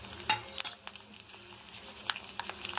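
Dry red chillies sizzling in tempering oil with cumin, asafoetida and turmeric, a faint crackling fry with a few sharp pops and light stirring clicks, close and quiet.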